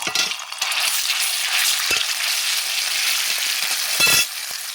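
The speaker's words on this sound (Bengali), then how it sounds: "ফোড়ন বাটাটাকে ভালো করে আমি ভেজে নেব" Spice paste sizzling and frying in hot oil, a steady close crackle with a few brief clatters of utensils.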